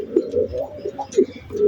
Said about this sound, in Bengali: আর এখানে আমার লক্ষা কবুতর